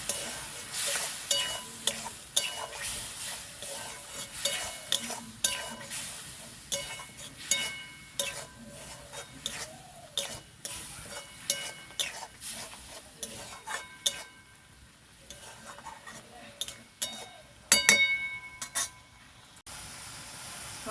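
Tomato paste being stirred and fried in a pan for meat ghugni, with soft sizzling under repeated scraping clinks of a spoon against the metal pot, steady and close throughout.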